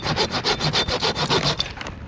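Saw cutting through a dead root for firewood at a snowy high-altitude winter campsite, a steady rhythmic back-and-forth rasp of about a dozen close, loud strokes.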